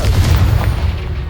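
A Confringo fire blast spell exploding in the Hogwarts Legacy video game, a loud, close, deep boom with a rolling low rumble that fades over a second or so, with no talk.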